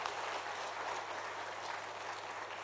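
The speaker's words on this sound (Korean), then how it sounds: "한번 감사의 박수 한번 하겠습니다" A church congregation claps in thanks during a revival service, a brief even wash of applause, fairly faint and distant.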